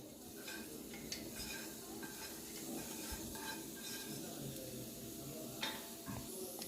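Faint sizzling of chopped onions frying in oil in a pan, with occasional stirring clinks and soft background speech.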